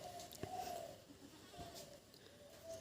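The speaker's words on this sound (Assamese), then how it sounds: "এয়া আমাৰ এইটো ছাগলী" A pet goat at a rural Assamese home gives a few soft, fairly distant bleats, spaced about a second apart, over quiet outdoor background noise.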